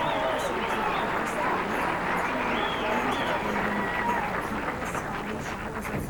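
Steady applause from the crowd at a 1997 professional bowling title match, the St. Clair Classic, a dense crackle of clapping holding throughout under a commentator's voice.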